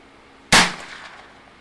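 A single sharp report from a Ruger rifle loaded from a factory 10-round magazine with Winchester Silver Tip bullets, loud and sudden, then a short decaying echo.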